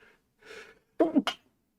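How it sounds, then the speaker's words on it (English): A single sneeze, close and loud, with a sharp breathy intake before it, then a quick two-part burst and release, alone without talk. "I have to sneeze."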